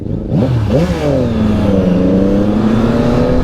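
A 2023 Yamaha MT-09 three-cylinder motorcycle with its stock exhaust accelerates hard close by, the engine note rising through rapid revs in quick sweeps, then settling into a loud, steady drone.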